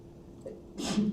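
A single sharp sneeze bursts out loud and close after a short intake of breath, indoors during a lesson.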